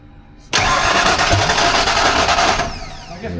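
A car engine cranks in a whirring burst for about two seconds, and its noise then falls back to a lower, rough running sound, close and loud.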